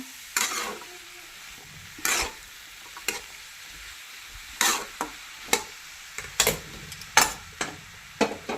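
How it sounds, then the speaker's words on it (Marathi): Bottle gourd pieces stir-fried in a pan, with a spatula scraping and clacking in irregular strokes over a soft sizzle, close and clear with no voices. "भोपळा जी आहे तो परतून घ्यायचा भोपळा जी आहे तो असा हलवून घ्यायचा"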